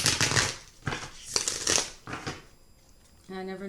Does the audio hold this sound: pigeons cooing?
no